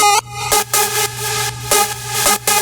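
A bright, buzzy layered trance synthesizer lead built partly from the Super Mario jump sound plays sustained notes over a steady low drone, with a few sharp breaks between phrases; loud and upfront, no voices.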